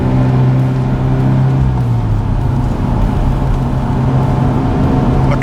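Steady road and engine noise from a car driven down the road after a wheel alignment, a continuous low hum with tire rumble and no talking.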